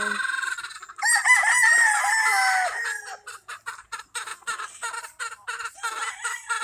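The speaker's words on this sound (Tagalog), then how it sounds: "kaingayan lang dito guys kasi malapit kami sa mga manok. Maraming manok dito" Nearby roosters crow loudly in a rural provincial yard, one long drawn-out cock-a-doodle-doo followed by a rapid series of short clucks and calls from the flock.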